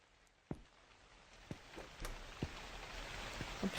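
Rain falls in the horror video game The Convenience Store, with a steady faint patter broken by a few sharper drips and taps, and no voices.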